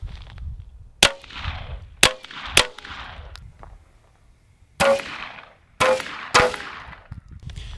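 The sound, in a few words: suppressed Ruger P10C 9mm shots hitting steel plate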